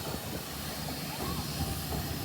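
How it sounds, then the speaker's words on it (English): Locomotive R761 being turned on a turntable at a railway workshops open day: a low, steady mechanical rumble with a constant hiss of steam, moderately faint against crowd ambience. "locomotive R761 is being turned on the turntable"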